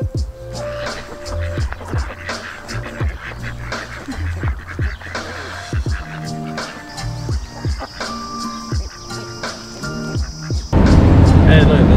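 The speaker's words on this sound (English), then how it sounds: "Here are the ducks." Ducks quack repeatedly over a busy outdoor background in Khorfakkan, with a sudden burst of louder broadband noise near the end.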